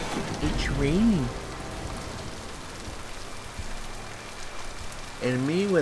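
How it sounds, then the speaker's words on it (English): Steady rain falls on a surface in the video game Mass Effect 2, a soft continuous hiss, with voices speaking briefly at the start and end. "It's raining."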